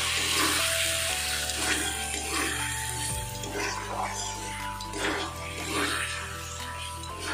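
Potatoes and masala sautéing in oil in a pan for an egg and potato curry, heard as a steady bright sizzle with soft stirring scrapes, running under a low hum.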